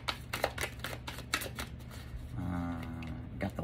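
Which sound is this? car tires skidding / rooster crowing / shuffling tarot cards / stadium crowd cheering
shuffling tarot cards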